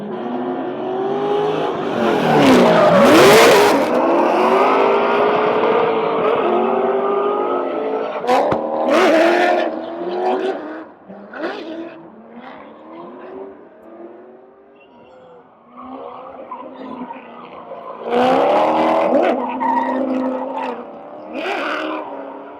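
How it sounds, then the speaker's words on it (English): Race cars drifting at an LS Fest West 2024 event, engines revving hard and tires squealing as they slide through turns and circles, loud and close, with rising and falling engine pitch and bursts of screeching tire noise throughout. "they drift, then they come around, they drift again, and then they kind of do like the circle thing, and then they race towards the end"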